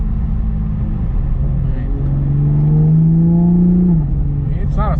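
A Toyota Supra with a torque converter automatic transmission accelerates hard, its engine note rising steadily then dropping abruptly at a gear shift near the end, a loud continuous rumble close by.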